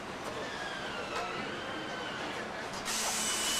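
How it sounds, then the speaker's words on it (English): A compressed air wrench on a Ford Mustang assembly line drives sun visor screws, giving a steady high whine with short bursts, rising louder near the end against a constant factory hum. "With a compressed air wrench, it's pretty easy to twist those screws in."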